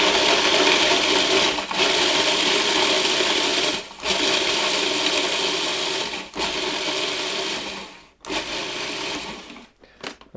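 A food processor grinds crackers into coarse crumbs for lemony cheesecake jars, running in several loud whirring bursts separated by short pauses, with a few quicker pulses at the end.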